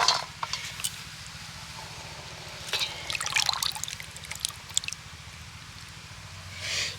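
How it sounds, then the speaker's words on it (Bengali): Water trickles and drips from freshly blanched green peas set on a perforated plate, with faint splashing and wet squishes close by under a low background hum. "এবার আমি এই জল থেকেও মটরশুঁটিগুলোকে ছেঁকে তুলে নেব নিয়ে একটা ছিদ্রযুক্ত থালার মধ্যে দিয়ে দেবো যাতে জলটা ঝরে যায়"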